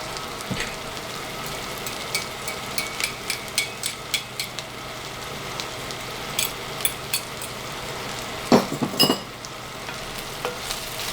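A spoon stirs beef stew in a tagine, scraping and tapping in a steady rhythm over a soft continuous simmering sizzle, close and moderately loud, with no talking.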